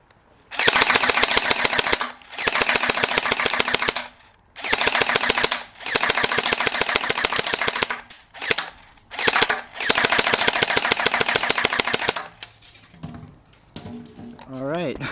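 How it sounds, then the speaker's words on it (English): Bursts of rapid full-auto fire from a JG G36C airsoft rifle aimed at a white target about 15 feet away, a dense mechanical rattle in several long strings with short pauses between them, loud and close. "shooting test for the G36C. I'll be shooting this white target up there from about 15 feet away"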